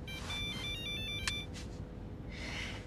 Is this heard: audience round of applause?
no